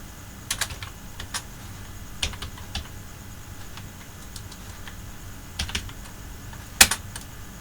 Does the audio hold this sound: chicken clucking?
no